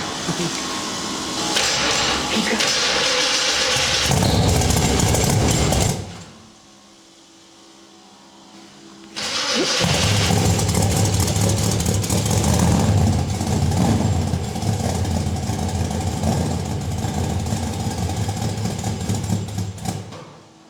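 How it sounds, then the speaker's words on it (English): A steady mechanical whir and hum from a Jeep Scrambler rally car's loud fuel pump and idling engine, loud and close, dropping briefly to near quiet before resuming. "Fuel pump is loud."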